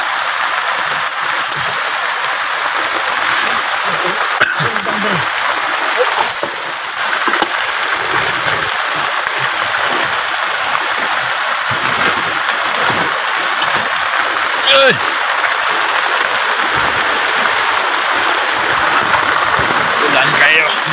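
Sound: rain falling, water streaming

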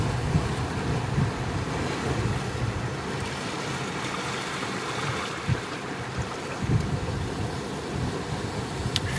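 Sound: ocean waves

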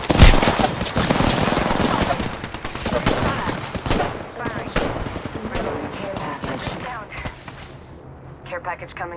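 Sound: gunfire in a video game

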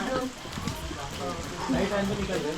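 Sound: rain

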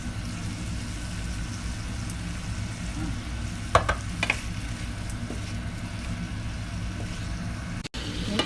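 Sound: stirring and frying chili paste with coconut milk in a pan

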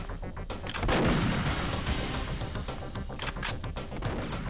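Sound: gunfire in the video game Perfect Dark

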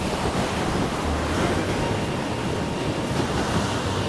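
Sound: rough waves crashing on rocky coast

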